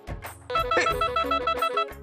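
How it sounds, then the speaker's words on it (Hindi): A telephone rings with a bright electronic trill, repeating in quick pulses for about two seconds, loud and close in an indoor scene of a Hindi comedy serial. "प्रोड्यूसर का फोन।"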